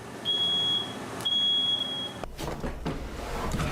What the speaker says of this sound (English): the smoke alarm is not letting me